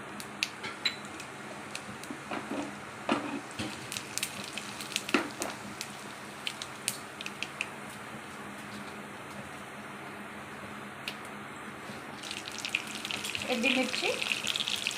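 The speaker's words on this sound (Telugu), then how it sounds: "ఒక ప్యాన్ తీసుకొని దాంట్లో 3 టేబుల్ స్పూన్స్ ఆయిల్ వేడి చేసుకోవాలండి. ఆయిల్ కాగాక ఆవాలు," Mustard seeds and cumin sizzle in hot oil in a pan, a steady crackling fry with sharp spitting pops through the first half, building again louder near the end.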